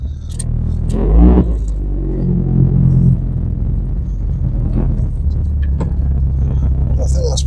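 Vauxhall Opel Corsa B GSi with a freshly replaced clutch pulling away, its loud, rough engine rumbling steadily close by throughout, with a brief surge near the start.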